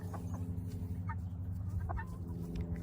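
A backyard flock of chickens clucks softly in a chicken run, scattered low clucks over a steady hum of ambient noise, no voices.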